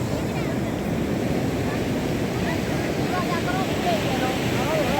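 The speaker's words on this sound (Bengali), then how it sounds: "আর এ দেখো ঢেউটা দেখো" Sea waves breaking on the beach at Puri at sunrise, a steady, broad roar of surf with wind buffeting the microphone throughout, loud and continuous with no talk.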